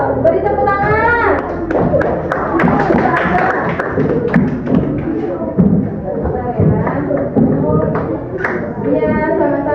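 Children in a primary school classroom clap their hands together in a burst of loud, busy slaps, with young voices talking over and around the clapping.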